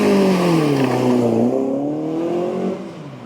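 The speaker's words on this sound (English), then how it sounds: "Do a burnout." An Alfa does a burnout at a Sunday-morning car meet: a loud, close engine roars, its pitch dipping and wavering, then fades slightly toward the end.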